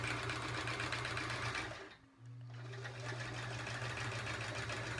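A sewing machine doing free-motion quilting stitches runs in a fast, steady mechanical whir and pauses briefly midway before starting up again, close and alone.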